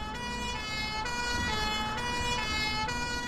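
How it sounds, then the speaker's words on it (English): An emergency vehicle siren wails continuously and steadily in the OMSI 2 bus simulator game on a London map, set over a constant low road rumble, moderately loud and without talk. "I also like he's turned down the sirens compared to yesterday."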